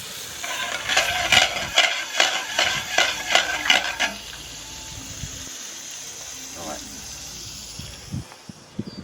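Prawns frying on a hot camp grill alongside warming rigs, giving a rhythmic series of crackling, stirring bursts for about four seconds before settling into a faint, steady sizzle.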